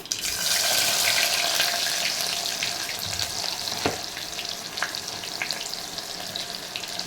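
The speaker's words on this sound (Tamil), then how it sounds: "வெங்காயம் நல்லா வதங்கிட்டோம்" Small shallots frying in hot oil in a pan for a fish curry after mustard seeds have popped, a steady loud sizzle throughout with a couple of sharp scraping clicks partway through.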